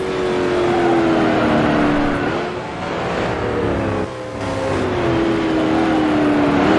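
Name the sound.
race car engine downshifting to second gear, Grand Prix Legends video game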